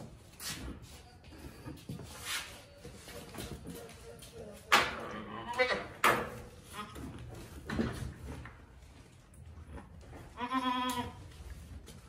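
A goat bleats repeatedly inside a barn, with wavering calls rising above shuffling and rustling movement, while a person talks nearby between the cries.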